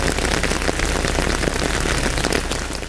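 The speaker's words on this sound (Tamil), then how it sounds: "நீலகிரி மாவட்டம் உதகமண்டலம் சுற்றுவட்டார பகுதிகளில் பெய்த கனமழையால் சாலைகளில் தண்ணீர் பெருக்கெடுத்து ஓடியது" Heavy rain pours steadily in Udhagamandalam in the Nilgiris district, a loud, dense and unbroken hiss of drops hitting surfaces with no voices present.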